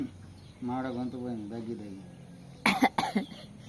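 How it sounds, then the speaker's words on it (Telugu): Voiced sounds come first, then a few close, harsh coughs in quick succession. "అందరికీ దగ్గులు ఉన్నాయి"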